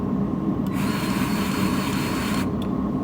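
A powered grease gun pumps grease into a Jeep Gladiator during suspension work: a loud, close mechanical whir with a rapid pumping rattle runs for about two seconds, starting and stopping abruptly over shop background noise.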